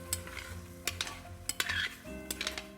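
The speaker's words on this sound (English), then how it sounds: "we're ready to deglaze" Liquid sizzles in a Dutch oven during deglazing while a utensil scrapes and stirs up browned bits, with sharp metallic clinks of the spoon against the pot over a steady close hiss.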